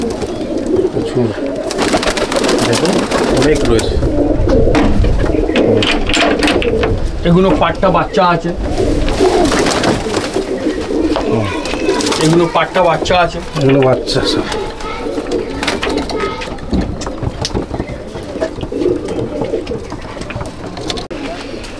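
A packed loft of flying pigeons and young squabs keeps up a continuous rolling coo and rustle at Sangrampur, with people talking loudly over the flock throughout.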